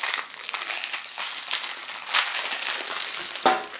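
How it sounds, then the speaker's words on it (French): Packaging of a L'Oréal Colorista Paint hair dye kit crinkles and rustles up close as it is unwrapped, irregular crackly bursts of plastic and paper handling with no talk. "je vais le déballer pour éviter le bruit"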